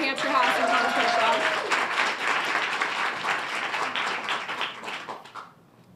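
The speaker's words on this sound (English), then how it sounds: "So just one round of applause, please, for the Hampshire House and Tom" An audience claps at a community briefing for the Mother's Day Walk for Peace, giving steady applause that tapers off and ends, with a voice briefly audible early on.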